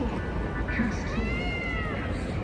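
Cat meowing on a busy Shinjuku street, a short rising and falling mew under steady loud street noise and crowd murmur, with voices audible nearby.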